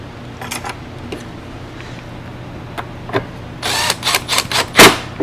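Nuts are tightened on a RedMax backpack blower during a head gasket repair, with faint scattered ratcheting clicks giving way to a louder burst of metallic tool clicks and whirring near the end.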